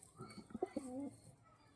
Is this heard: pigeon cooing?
yes